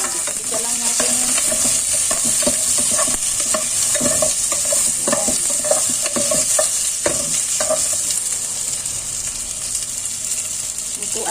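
Onion and garlic sizzle loudly as they are sautéed in a hot pan, with a steady frying hiss broken by frequent clinks and scrapes of stirring close by.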